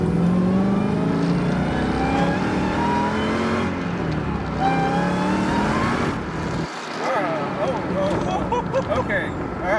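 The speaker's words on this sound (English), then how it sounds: "That's just the exhaust." A Mazda Miata fitted with a Hellcat engine revs through its exhaust, with loud, rising and falling engine sweeps repeating over several seconds, under people talking nearby.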